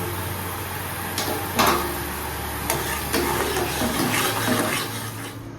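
Water pours into a vessel of rock sugar with cardamom powder nearby, a steady splashing rush of running liquid filling the bowl, close and continuous for several seconds with no talk.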